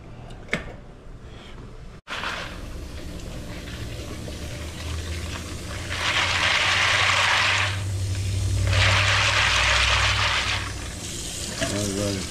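Water from a pot of cooked shrimp is poured off through a sink, a steady rushing splash in two bursts, with a clank before it and people talking quietly nearby.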